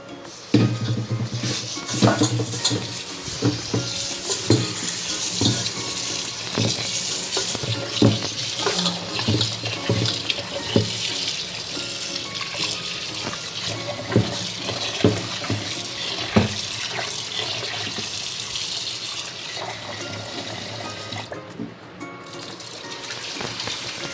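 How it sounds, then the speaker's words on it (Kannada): Soaked rice and wheat washed by hand under a running kitchen tap, with steady splashing water, swishing grains and occasional clinks of a metal vessel, continuous and close with no talk. "ಒಂದು 5-6 ಸತಿ ಚೆನ್ನಾಗಿ ಅಕ್ಕಿದು ತೊಳೆದ್ಬಿಟ್ಟು"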